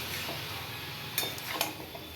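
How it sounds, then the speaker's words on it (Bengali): Soya chunks being sautéed in a pan for curry, with a quiet steady sizzle and a few light scraping clicks of a spoon against the pan, faint and close. "এই যে সয়াবিনগুলো দিয়ে দেখো কষাচ্ছি"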